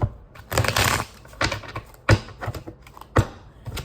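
Tarot cards shuffled close up in irregular bursts of riffling and snapping, with sharp slaps around the two-, three- and four-second marks and softer rustling between, no talk.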